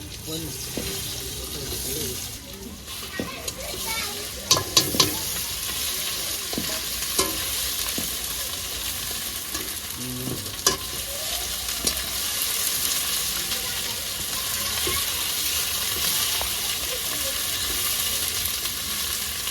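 Bay leaf dropped into hot oil for a chicken curry cooked over a wood fire at a winter night picnic, giving a continuous hissing sizzle with scattered clinks and taps. Some talk is heard briefly.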